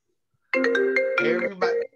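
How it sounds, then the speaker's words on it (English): A mobile phone ringtone goes off during a live talk show, a loud melodic electronic tune of bright repeated notes that starts abruptly and plays steadily for over a second, with no talking over it. "The host of the show can't even mute his own phone."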